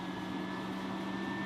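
An RV roof vent fan on its medium setting hums steadily with a stronger whir and a faint tonal whine, unchanging throughout and with nobody speaking.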